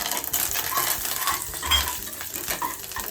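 Hot oil sizzles and crackles continuously up close as mustard seeds, dried red chillies and curry leaves are tempered, with a spoon stirring and tapping against the pan.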